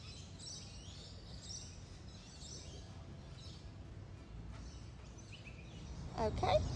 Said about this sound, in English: as you can hear, the birds are deafening